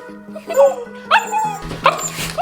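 A small puppy barks and yips in short, high-pitched bursts, close to the microphone, with whimpering tones between yips in a home setting.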